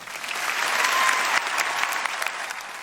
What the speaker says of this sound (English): And the crowd just goes wild